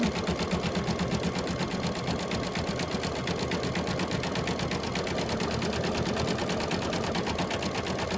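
An embroidery machine stitches a gold metallic thread border around a St. Patrick's Day coaster design, a continuous fast, even needle chatter with motor drone, close and steady throughout.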